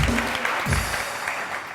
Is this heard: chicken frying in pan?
no